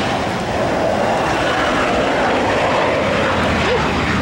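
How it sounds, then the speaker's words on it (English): Airplane taking off near Verdmont House in Bermuda, a loud broad engine roar that holds steady throughout, heard from outdoors. "Plane just taking off."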